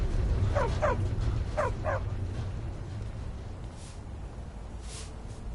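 A dog in the Skyrim video game barks four times in two quick pairs, moderately close, over a steady low ambient rumble, with quieter hiss and faint background sounds following.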